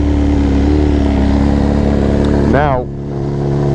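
A BMW S1000RR sport motorcycle fitted with a new exhaust idles with a steady engine drone, then gives one quick rev that rises and falls, with a voice talking over it.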